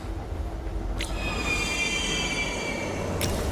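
A train in a video game derailing, heard as a steady low rumbling roll with a sustained metallic squeal running over it, bracketed by two sharp scraping bursts at the start and end.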